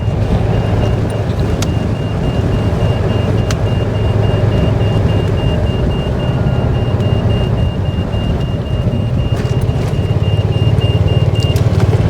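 A car drives slowly along a road after Hurricane Debby toward a drained pond, its engine and tyre rumble steady and close throughout, with a faint high electronic tone running underneath and no talk.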